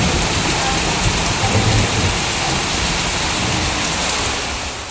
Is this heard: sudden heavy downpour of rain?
yes